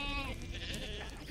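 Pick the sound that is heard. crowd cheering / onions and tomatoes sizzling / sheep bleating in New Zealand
sheep bleating in New Zealand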